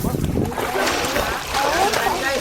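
People swimming splash the water in irregular bursts and sloshes close by, with voices talking over the splashing throughout.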